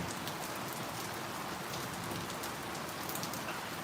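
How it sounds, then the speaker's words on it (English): Constant rainfall hissing and pattering close by, drops tapping a hard surface in an unbroken wash of sound. "It is raining."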